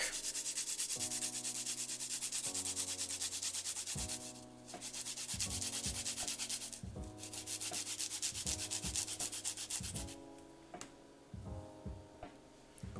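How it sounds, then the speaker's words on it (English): Garlic being grated for spinach pesto pasta with shrimp makes rapid, close, rasping scrape strokes that repeat in a steady rhythm, with brief pauses, over tonal background music and no speech. "now I'm just going to grate the garlic."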